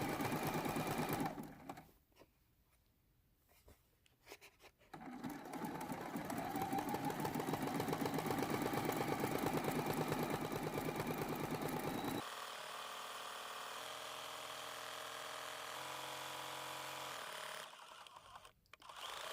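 A sewing machine satin-stitches the brown-thread handle of a fusible appliqué quilt block, running in long, fast, steady buzzing bursts with a brief pause and a change in motor pitch partway through.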